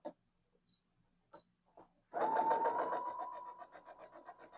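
A few soft clicks and handling taps lead into a sewing machine stitching a seam on wide-leg palazzo pants, its fast rhythmic whirring running steadily and close for the last couple of seconds.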